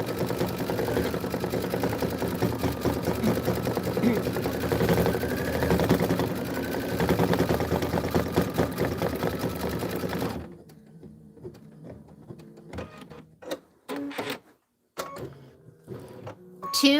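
A home embroidery sewing machine stitches a flower design in a steady, rapid mechanical whir for about ten seconds, then stops, leaving scattered clicks, handling noises and a few quiet remarks.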